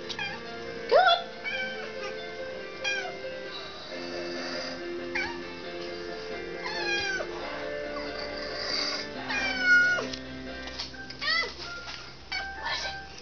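A house cat worked up over a moth makes odd chirping, whimpering meows in short broken bursts. The sound is fairly quiet and close, with soft speech in the background.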